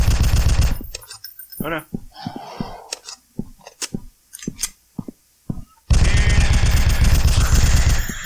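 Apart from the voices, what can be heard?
shotgun fire in video game Slenderman Must Die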